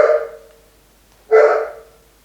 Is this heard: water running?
no